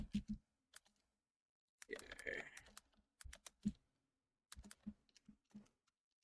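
Typing on a computer keyboard comes in quick bursts of close, crisp key clicks separated by short pauses, with a longer rattling run of keystrokes near the middle.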